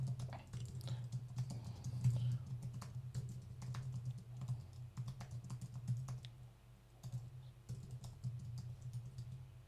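Typing on a computer keyboard, a steady run of quick, close key clicks in an irregular rhythm over a low constant hum, with no one talking.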